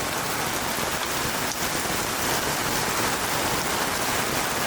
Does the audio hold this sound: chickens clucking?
no